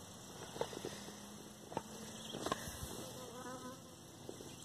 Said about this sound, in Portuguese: As abelhas